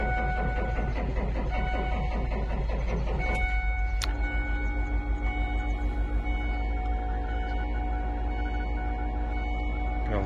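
A Ford F-650 Super Duty dump truck with a diesel engine and a weak battery cranks over in a steady, loud, rhythmic churn that runs for about three seconds, then gives way to a continuous running hum with a high whine.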